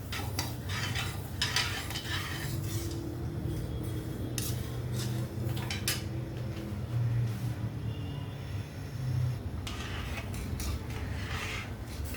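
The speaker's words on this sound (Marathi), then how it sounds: "आपलं पाकाला म्हणजे या सिरपला छान उकळी आली आहे" Sugar syrup for rava-besan laddoos boils in a pan over high gas while a spoon scrapes and stirs it. Bubbling and clinking metal scrapes repeat throughout, close and fairly loud.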